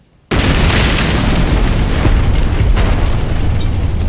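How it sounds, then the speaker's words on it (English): A loud explosion bursts in after a brief silence, a sustained roaring blast with rumbling debris as a heap of metal is hurled high into the air, staying dense and full for several seconds. "I'd never seen a heap of metal fly so high into the air from an explosion."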